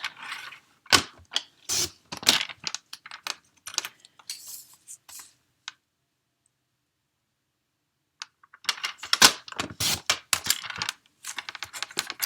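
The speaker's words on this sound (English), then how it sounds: "I'm going to use my trimmer so I can get a straight edge." A paper trimmer cutting cardstock for an Easter card, close sharp clicking and ratcheting slices in quick irregular bursts, then a few seconds of silence before another run of crisp clicks.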